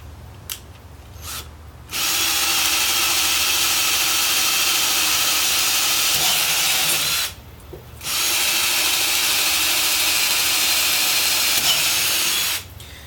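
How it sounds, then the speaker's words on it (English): A cordless drill on a small lithium battery, on its number 1 speed setting, whines loudly in two long bursts of drilling holes, each several seconds, separated by a short pause, with brief clicks and quiet handling noises at the start. "we're going to just drill some holes"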